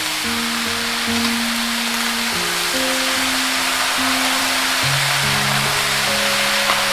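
Fresh bottle gourd tipped into a hot pan, giving a steady loud hiss of sizzling and steaming with no pauses, while faint tonal sounds drift underneath.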